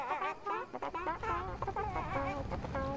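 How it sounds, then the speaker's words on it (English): Chicken in a video game clucks in a rapid run of close, repeated calls that keep going without a break, loud and busy over a low background rumble. "There we go. Chicken!"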